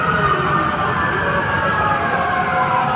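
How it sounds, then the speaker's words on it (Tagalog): Fire truck sirens wail loudly as the emergency vehicles pass by, a steady, sweeping siren tone that holds throughout over rumbling traffic. "maraming mga mga fire truck na dumaan"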